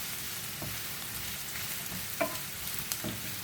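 Sliced onion dropped into hot oil gives a faint, even frying hiss, with a few light clicks of stirring.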